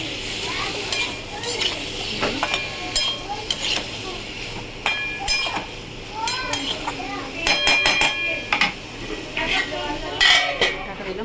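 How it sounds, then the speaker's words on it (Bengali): Prawns being stirred in a frying pan during home cooking, with repeated scraping and clinking of a utensil against the pan over a faint sizzle, close up, while a voice talks now and then. "চিংড়ি মাছটা দিয়ে এবার নাড়াচাড়া করবো"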